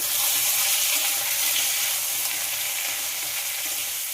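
Papaya and potato pieces frying in a pan with salt, giving a loud, steady, close hiss of sizzling oil that holds throughout.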